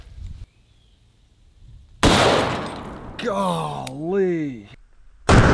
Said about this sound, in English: I want to shoot a hollow point for the last round